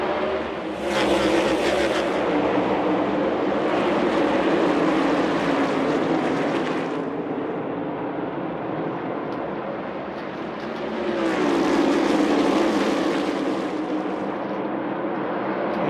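NASCAR stock cars racing around the track during stage 3, loud roaring engines sweeping past in waves, one pack passing then another surging by, with no talking.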